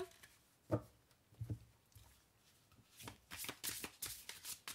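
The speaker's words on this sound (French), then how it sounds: "Je les remélange pour le coup." Oracle cards being shuffled by hand, a run of soft riffling and slapping strokes that grows busier and denser toward the end, close and fairly quiet, with no talking.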